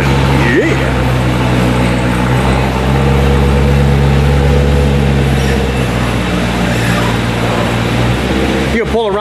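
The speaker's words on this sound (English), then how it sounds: "Performance exhaust is open." A Corvette with its performance exhaust open idles steadily with a deep, continuous rumble throughout, close and loud, while voices talk faintly in the background.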